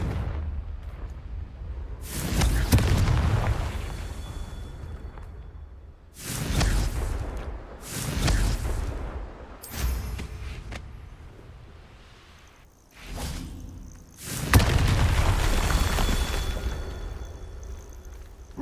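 Several loud fiery blasts from the Confringo blasting spell in Hogwarts Legacy, erupting at irregular intervals with rumbling tails and whooshing bursts, no voices over them.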